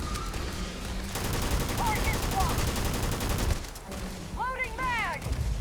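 Sustained gunfire in the video game Starfield, a dense continuous rattle of rapid shots that keeps going nearly the whole time, with brief gaps and synthetic swooping game tones rising over the barrage.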